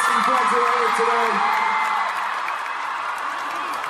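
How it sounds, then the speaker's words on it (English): An indoor audience applauds with whoops and cheers for a graduate at a live performance event. A voice talks over the start, then steady clapping continues alone. "Everybody, please give a round of applause"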